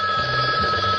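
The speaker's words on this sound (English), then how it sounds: "it's the Liberty Line ringing" A telephone line rings inside a radio studio, a steady electronic ring tone filling the whole second at close, even loudness with no talk over it.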